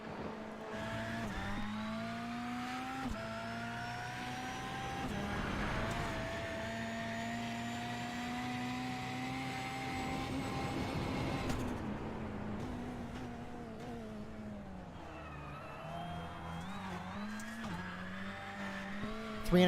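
Francois Martel's number 12 rallycross race car heard from onboard during a NASA Rallycross Challenge feature race, a loud, continuous engine drone rising and falling through gear changes and throttle lifts, with occasional tire noise.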